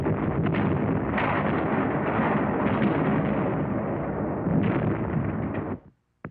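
Wartime artillery fire from the Battle of San Pietro, a dense continuous rumble of distant booms and bursts that rolls on for several seconds and then drops off abruptly, with a faint thump at the end.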